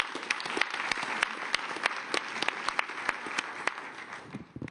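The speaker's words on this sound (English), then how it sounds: "in giving them a big round of applause" An audience at a World Economic Forum climate panel gives moderate applause, with distinct sharp claps standing out over a steady clapping wash that thins slightly toward the end.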